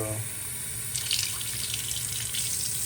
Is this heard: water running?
yes